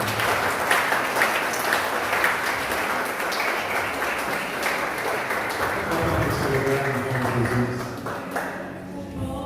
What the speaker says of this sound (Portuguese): Aplauda bem forte o Senhor.